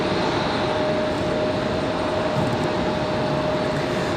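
An arriving airliner at Raleigh Durham International Airport gives a steady, loud broadband jet roar with a faint high whine, holding constant throughout with no talk.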